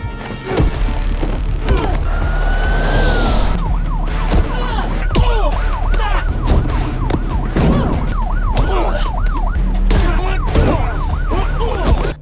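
A wailing ambulance siren in a film chase scene, loud and close, its rising and falling tone repeating over dense action sound effects and engine noise.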